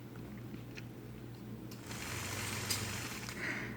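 A quilting machine stitching straight grid lines with a ruler runs as a steady mechanical hum with a soft rhythmic needle clatter, growing slightly louder partway through.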